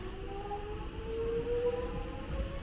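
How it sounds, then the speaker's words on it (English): A train rumbles out of Clifton Hill railway station in Victoria at a distance, with faint tonal squeals from the wheels over a low, steady rolling noise. "So we'll let this train go."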